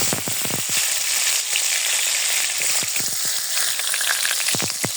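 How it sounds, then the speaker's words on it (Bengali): Onions fry in a pan to make crisp birista, a bright constant sizzle with bursts of clicking spatula strokes at the start and end. "আমি এখন পেঁয়াজ বেরেস্তা করে নেব।"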